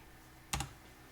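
Two quick keystrokes on a computer keyboard, a short close double click in an otherwise quiet room.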